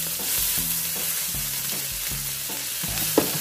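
Onion and garlic fry in a pan for Ilocano igado, loud and close, with a continuous sizzle and a rhythmic series of repeated stirring scrapes roughly every half second.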